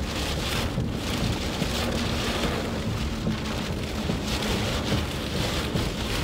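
Heavy rain pours during a tornado-warned storm near Fort Smith, Arkansas, a dense, steady roar of rainfall hammering surfaces with no letup, loud and close.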